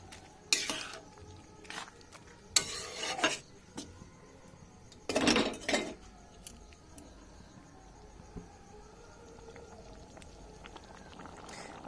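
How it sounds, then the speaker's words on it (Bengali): A spoon stirs and mixes tarka curry in a pan, scraping in several distinct bursts between quieter stretches, with a soft background sizzle and occasional light clinks of metal. "আবার আমি ভালো করে মিশিয়ে দেবো"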